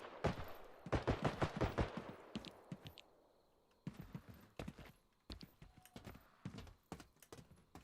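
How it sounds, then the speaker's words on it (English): Gunfire from a character's gun in the BodyCam shooter game, several sharp close shots in quick bursts with brief pauses between, loud over a busy in-game background. "When Jeffrey fires his gun,"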